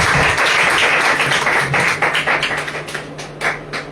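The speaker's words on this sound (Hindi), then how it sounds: "ताली बजा के प्रभु धन्यवाद।" A church congregation at a Sunday worship service claps together, a dense, steady wash of many hands that loosens into scattered slaps and fades toward the end, filling the room.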